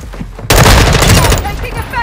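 Loud close bursts of rapid automatic gunfire in the video game Modern Warfare II, starting abruptly and rattling on for about a second before tailing off, with a voice speaking faintly underneath.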